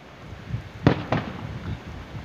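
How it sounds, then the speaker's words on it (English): Two sharp firework bursts boom close together outdoors, followed by fainter pops and crackles fading over background hum. "there's a fireworks that's still going on now"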